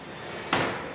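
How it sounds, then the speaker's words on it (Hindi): A door swings open in a Hindi TV serial household scene, a single firm thud and rush of broadband noise midway, fairly close, with a brief knock-like hit before and after, no talking. "इतनी देर क्यों लगा दी दरवाजा खोलने में"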